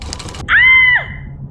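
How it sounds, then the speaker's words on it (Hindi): A woman lets out a single loud, sustained scream of pain, rising and then falling away over about half a second, after catching her finger in a sewing machine while watching TV. "मुंह से चीख निकल गई"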